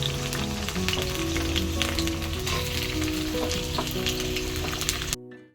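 Potatoes and onions sizzle loudly in hot oil, a close, continuous crackle with stirring scrapes, until the sound cuts off abruptly just before the end.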